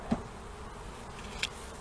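Honeybees hum softly in an overwintered hive opened for inspection, a faint steady buzz with a couple of brief bumps, no talking.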